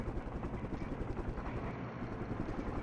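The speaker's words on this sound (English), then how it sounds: "that poor helicopter running right over another Cav Scout" A helicopter in the wargame Flashpoint Campaigns: Southern Storm gives a loud, continuous rotor thrum and whine that runs unbroken for the whole short stretch.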